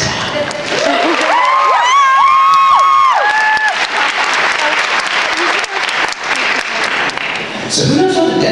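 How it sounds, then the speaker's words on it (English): Loud audience applause and cheering at a competition event, dense clapping with whoops and high shouts riding over it, swelling early and staying strong throughout, with voices calling out across the crowd. "So let's give a big round of applause for Mark and C."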